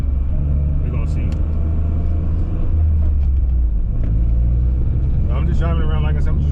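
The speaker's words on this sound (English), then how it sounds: "I'm just driving around my town, just giving you guys some type of sound and just a different point of view of my car driving." Toyota GR Corolla driving around town, heard from inside as a steady low road and engine rumble throughout, with faint voices and other noises briefly breaking in near the end.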